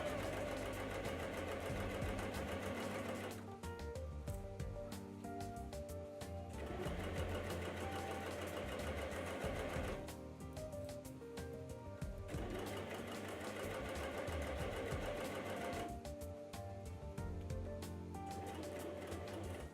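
Cover stitch sewing machine running on a Christmas sweater seam, a steady loud mechanical whir in long bursts with two brief pauses between runs.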